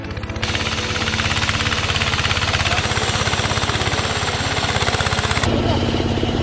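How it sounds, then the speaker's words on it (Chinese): A loud, steady mechanical drone with rapid rhythmic pulsing as an ice-cutting machine grinds through a frozen river surface in northeast China at minus 30 degrees, running continuously throughout. "这里好多人正在用那个切割机在切割这个河面"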